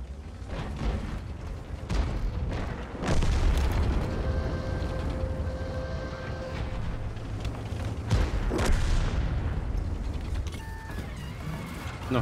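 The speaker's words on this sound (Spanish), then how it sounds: "Qué molesta esa artillería, de verdad." Artillery shells burst in World of Tanks against the steady rumble of a tank engine, with two heavy booming hits standing out and lighter mechanical rattles between them.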